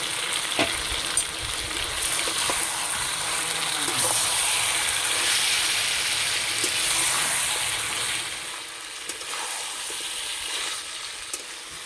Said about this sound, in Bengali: মাংসটা কষিয়ে নেব